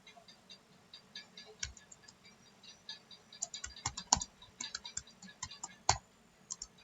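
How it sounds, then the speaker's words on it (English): Typing on a computer keyboard: an uneven run of light, close clicks and key taps with occasional sharper, louder strikes, steady and unhurried, with no talking. "I will type in the chat so that you won't be confused."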